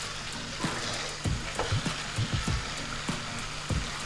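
Mutton being stirred and fried for Bengali kosha in a pan, a steady crackling sizzle with scattered scraping spoon knocks against the metal, close and alone.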